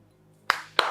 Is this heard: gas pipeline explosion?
no